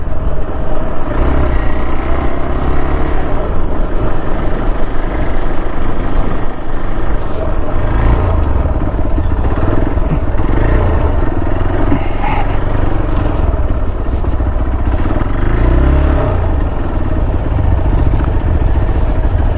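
A vehicle engine drones steadily and loudly as it goes off-road along a narrow track in Joypur forest, with rattling and bumping clatter throughout.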